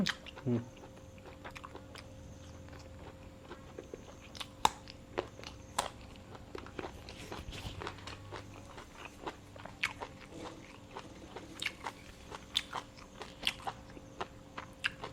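Grilled pork intestine being bitten and chewed close up, with soft crunches and moist chewing clicks scattered irregularly over a quiet background.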